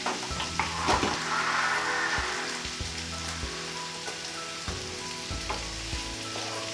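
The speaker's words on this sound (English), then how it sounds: "And just give it a quick stir." Steady frying sizzle of tomatoes in a pan for vegan paella, with several clinks and scrapes of a utensil stirring, close by, no talking.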